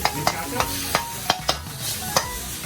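Vegetables are stir-fried briefly in a pan with a little water for a Thai street food order, giving a steady sizzle punctuated by regular sharp clanks of the utensil against the pan.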